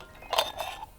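A small lightweight camping cook pot, part of an ultralight backpacking kit, gives two quick metallic clinks close by, a brief rattle of handled cookware with no speech.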